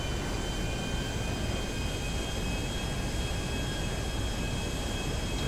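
A plane flies in GTA V with a loud, steady roar of engine and rushing wind, an unbroken drone with a faint high whine that stays constant throughout, and nobody speaks.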